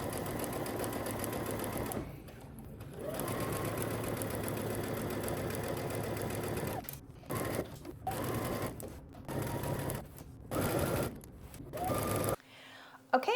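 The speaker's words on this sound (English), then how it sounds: "we're going to head to the sewing machine" A sewing machine stitches a pants seam in a long steady whirring run, then a series of shorter bursts separated by pauses, close and moderately loud with no talking.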